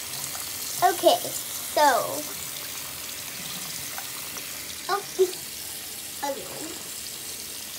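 Tap water runs steadily into a sink while a toy is washed, a soft continuous hiss under intermittent speech from a nearby speaker.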